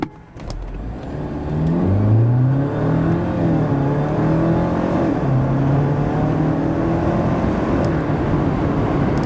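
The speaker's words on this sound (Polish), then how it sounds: "Pod kątem dynamiki samochód oferuje takie przyspieszenie od 0 do setki." Jeep Wrangler Sahara 2025 plug-in hybrid with a 2.0 engine accelerating hard from a standstill to 100 km/h; the engine note climbs through rising pitch sweeps with gear changes, heard from inside, steady and fairly loud with no talking.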